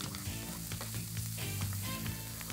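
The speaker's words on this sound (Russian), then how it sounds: "Вот смотрите-ка, у меня жарится лук сейчас." Chopped onion frying in vegetable oil in a pan gives a steady, close sizzle with soft crackles and pops, continuous throughout, with no talking.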